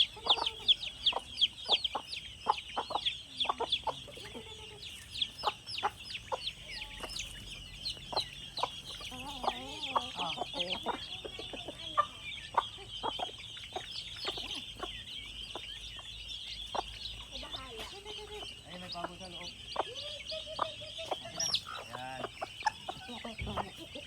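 Chickens and chicks on a farm lot in the Philippines cluck and peep continuously, with sharp calls scattered throughout over a steady high chirping from the young birds, and some faint talk in the background.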